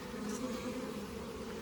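Honey bees carrying pollen crowd back into their hive, making a continuous close buzzing drone with a steady hum and no voices.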